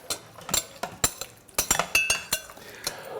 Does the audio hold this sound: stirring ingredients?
yes